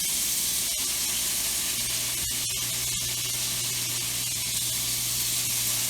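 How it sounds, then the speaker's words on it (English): Frozen cooked shrimp sear in a hot cast iron pan, giving a dense, constant hiss of sizzling oil with a few faint clicks and taps over the top. "we're just gonna like pan sear our shrimp for like a minute each side"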